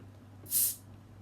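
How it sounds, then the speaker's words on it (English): A 750ml glass long-neck bottle of homebrewed Galaxy Lager cracks open with a single short, sharp hiss of escaping gas, close and brief against a quiet room with a low hum. "Nice hiss."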